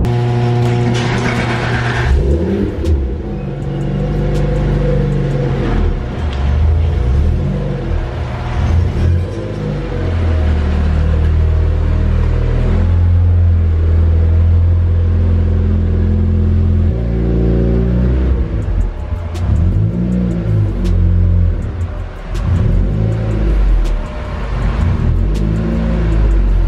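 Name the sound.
Lotus car engine warming up and revving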